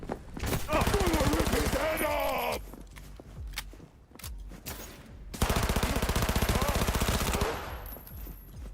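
Two long bursts of rapid automatic gunfire from a gun in Cyberpunk 2077, loud and close, separated by a gap of scattered single shots and clicks, with game voices or effects mixed in.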